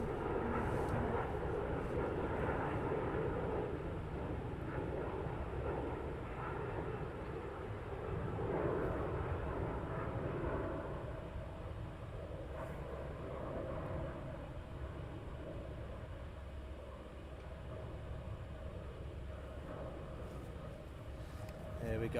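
Airliner departing Heathrow Airport, a broad distant jet roar that swells and then slowly fades, with a voice speaking faintly over the engine noise.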